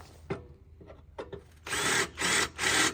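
Power drill working on a mower wheel, three sustained loud whirring bursts after some scattered clanks and taps of handling, close up.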